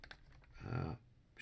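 Computer keyboard shortcut keys tapped while playing a turn-based wargame of the 1809 Battle of Aspern-Essling: a few faint, quick clicks at the start and end around a brief soft whoosh, all quiet and close.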